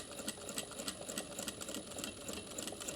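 A home sewing machine running fast as it stitches a pleated zippered bag, a continuous rapid mechanical chatter at moderate level, fairly close and without talk.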